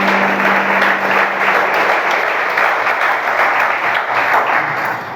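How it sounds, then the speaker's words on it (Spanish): A church congregation claps loudly for the Lord during a Spanish-language service, a thick, continuous wave of many hands with a low held tone briefly underneath at the start, fading slightly at the end. "Brinden un fuerte aplauso al Señor otra vez"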